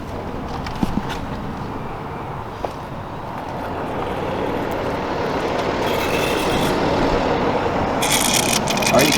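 Steady rumbling idle of a BMW N55 engine running during an electronic coolant bleeding procedure, a continuous low drone with faint mechanical whirring throughout.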